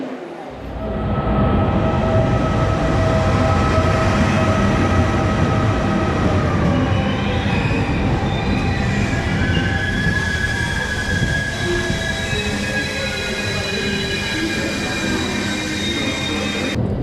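An Italian regional train to Florence rumbles steadily nearby with metallic wheel squeals and high screeching tones rising and falling over the continuous roar, loud throughout.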